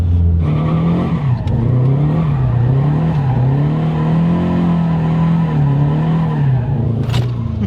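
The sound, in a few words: turbocharged Scion FRS car sliding with handbrake, tires squealing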